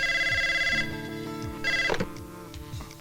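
A telephone rings with repeated electronic trill bursts over a steady musical background, fairly clear and continuous for a few seconds.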